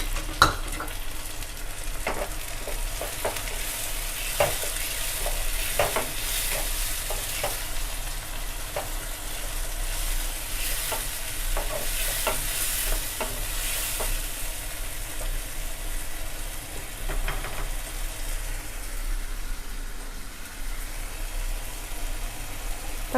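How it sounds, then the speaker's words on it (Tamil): Chopped onion and ground tomato sautéing in a pan for prawn thokku, a continuous moderate sizzle with occasional stirring clicks and scrapes, no talking. "வெங்காயம் கொஞ்சம் வதங்கினதுக்கப்புறமா நம்ம அரைச்சி வச்சுருக்க தக்காளி சேர்த்துக்கலாம்."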